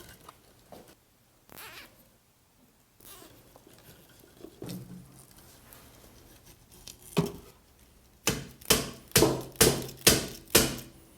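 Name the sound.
hammer tapping into soil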